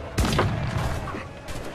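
Ship cannon fire in Assassin's Creed IV Black Flag: a quick volley of heavy booms at sea in the first half, with rumbling noise and another blast near the end.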